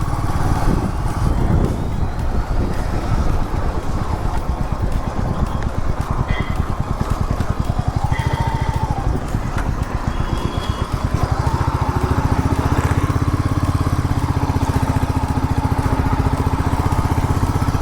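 A motorcycle rides through a toll plaza on the road into Pondicherry, its engine a steady close drone with wind buffeting and a slight rise in rumble near the end. No one speaks.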